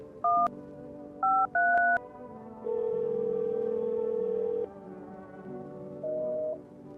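Phone dialing in the video game No Im Not A Human: several short two-tone keypad beeps in quick succession, then a long steady tone and a few lower tones, clean and electronic with no speech.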